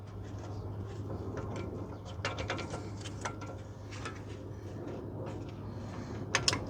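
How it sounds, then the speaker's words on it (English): Faint clicks and ratcheting taps come from a clamp being tightened during an inner tie rod replacement on a 2006 Mazda 3 2.0, over a low steady hum, with no voices. "You want to tighten down the clamp until it stops."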